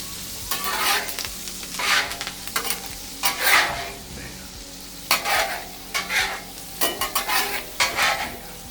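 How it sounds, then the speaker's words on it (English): Steak sizzles on a hot outdoor griddle while melted butter is basted over it, steady frying hiss broken by repeated bursts of louder spattering as the butter is spooned on, close up with no talk. "I will now just start to baste that steak, baste it and baste it some more"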